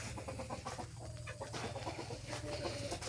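Backyard chickens kept in a coop clucking and squawking, several birds close by in a continuous busy chatter with no talking.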